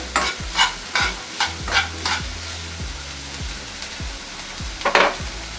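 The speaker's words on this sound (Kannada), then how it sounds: "ಇಷ್ಟು ಹಾಕ್ಕೊಂಡು ಸ್ವಲ್ಪ ಫ್ರೈ ಮಾಡ್ಕೊಳ್ಳೋಣ" Ingredients for an egg omelette fry and sizzle steadily in a pan while a spoon stirs and scrapes in several short bursts, ending with a louder stir near the end; no one speaks.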